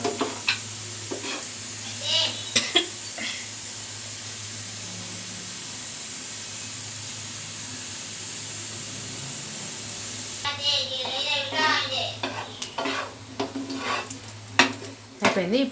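Cardamom pods sizzle briefly in hot ghee for sweet sago payasam, a light crackling fry with spoon scrapes and clinks against the pan, broken by bursts of busier stirring and clatter toward the end.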